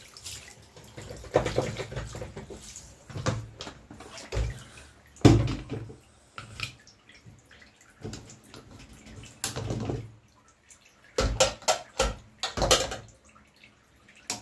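Water runs from a tap in uneven bursts over cooked beef to cool it in a kitchen, splashing and dripping with short pauses between the gushes.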